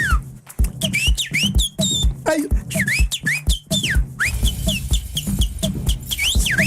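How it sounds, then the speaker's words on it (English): A whistle is blown over a beat in repeated sharp, sliding blasts, riding a loud, thumping electronic rhythm with an occasional shouted voice. "Don't forget the whistle."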